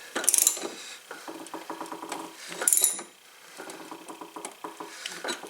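Ratchet wrench tightening a spark plug on a Craftsman push mower, quick clicking runs of the pawl in several bursts, close and clear with no voices.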